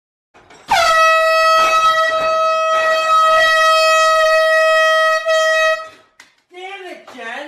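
A wake-up prank with a sustained, very loud air horn blaring at close range for about five seconds, muffled thumps under it, then a voice shouting right afterward.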